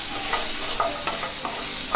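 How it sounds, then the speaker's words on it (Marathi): Garlic and ginger being stir-fried in a pan for an onion-tomato masala paste, giving a steady close sizzle with soft scraping stirs at irregular intervals and no talk. "आपण लसूण आणि आलं हेही परतवून घेऊया।"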